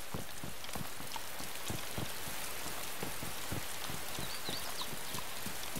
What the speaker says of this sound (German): Und der Regen, der macht es mir jetzt gerade nicht unbedingt leichter von der Aufnahme.